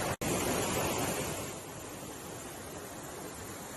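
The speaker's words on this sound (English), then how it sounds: "this is the top of our waterfall" Waterfall rushing as a steady broadband roar, loud and close, with a brief dropout near the start and slightly quieter but constant after the first second and a half.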